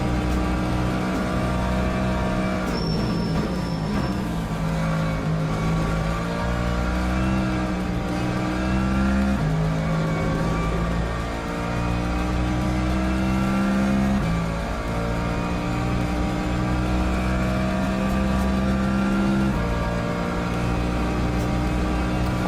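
A Porsche race car in the Le Mans Ultimate racing game drones with a steady engine note that climbs and drops through gear changes, sustained and prominent for over twenty seconds with no talking over it.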